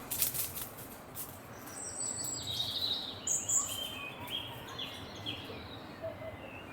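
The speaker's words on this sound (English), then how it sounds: "It's birds." Small birds chirp and twitter in a countryside cottage back garden, scattered high calls drifting at a moderate distance over a steady soft outdoor background, with no voices.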